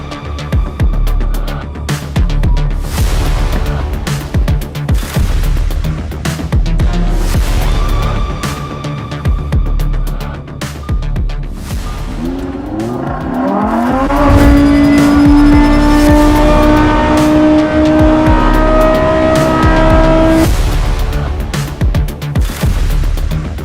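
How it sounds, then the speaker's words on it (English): A loud Lamborghini Huracán Tecnica V10 engine roars and revs high, pitch climbing sharply through the gears before holding a sustained scream, with steady engine rumble throughout. "I could spend even a few more hours listening to that gorgeous V10."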